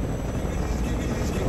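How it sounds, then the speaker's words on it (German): Helicopters carrying soldiers in a Skibidi Toilet animation, a steady, loud, droning rotor rumble that fills the whole moment without a break. "Diese Hubschrauber, die Leute oder Soldaten in dem Fall transportieren."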